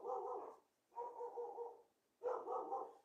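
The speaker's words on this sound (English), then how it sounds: "The dogs are barking." Dogs bark three times in spaced bursts, each about half a second long, faint and somewhat distant.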